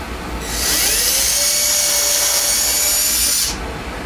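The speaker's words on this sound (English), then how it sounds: "I just do the pilot holes so that I don't split the wood." A power drill bores a pilot hole into wooden benchwork, spinning up to a steady high whine for about three seconds before cutting off abruptly, loud and close with no voices.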